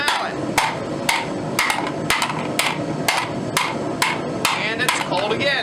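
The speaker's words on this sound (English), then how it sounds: "If you'll notice, I'm using a rawhide mallet," A rawhide mallet hammers a saw blade into a bowl, about a dozen sharp, ringing metallic strikes at an irregular but brisk pace, close and clear.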